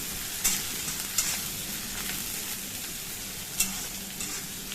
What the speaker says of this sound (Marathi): कांदा लसूण चांगला मी परतून घेऊया चार पाच कडेपत्तीच पानं घालूया आपण